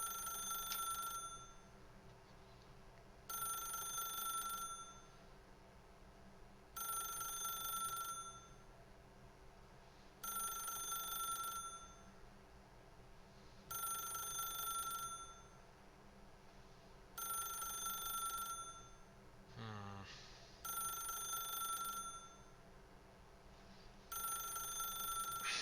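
Telephone in The Stanley Parable ringing in steady repeated bursts, eight rings with short silent gaps between them, over a low ambient game hum, no talk.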